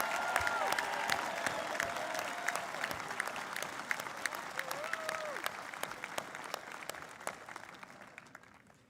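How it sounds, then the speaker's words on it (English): Audience at the Owen School Class of 2021 commencement ceremony claps steadily for honored graduates, a dense, even patter of many hands with a few scattered voices and cheers rising over it. "Let's give them a big round of applause"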